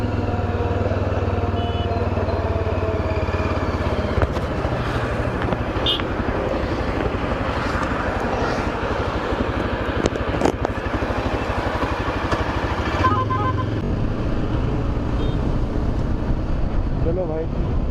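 A motorcycle on a long highway ride from Vijayawada toward Visakhapatnam gives a steady, close engine drone mixed with wind buffeting, holding evenly throughout, with a few sharp knocks and a rider talking over it.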